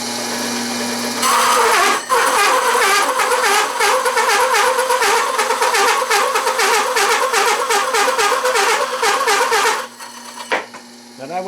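Large holesaw cutting at a slow 480 RPM on a drill press: a loud, continuous rhythmic grinding chatter that runs for about nine seconds, then stops and winds down to a quieter hum.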